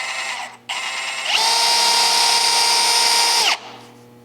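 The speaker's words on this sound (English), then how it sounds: "I'm just gonna use a drill bit to get it started." A power drill whines steadily, then bites into steel with a louder, higher grinding drone for about two seconds before easing back to a lighter hum.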